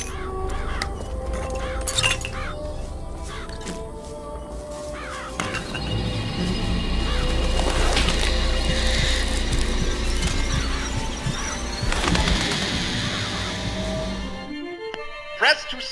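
Harsh cawing and flapping of summoned murderous crows in the video game Bioshock Infinite, rising into a dense swirling flurry with glassy clinks and game sound effects, ending abruptly.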